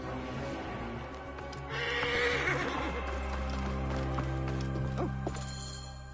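A horse in Assassin's Creed Origins whinnies loudly and gallops, hoofbeats thudding over a low rumbling game soundscape, with the neigh rising sharply partway through.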